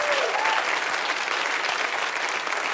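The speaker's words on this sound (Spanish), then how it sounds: "si quieren empezar el aplauso" Stand-up comedy audience breaking into steady, full-room applause that stays loud and even throughout, with no talking over it.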